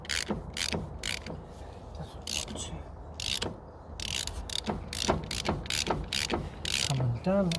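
A socket ratchet clicks in close, uneven bursts of sharp pawl ticks, turning the hub shaft on a Land Rover during a hub oil seal change, with faint metallic creaks between strokes.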